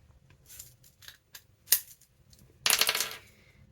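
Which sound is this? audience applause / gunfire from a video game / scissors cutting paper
scissors cutting paper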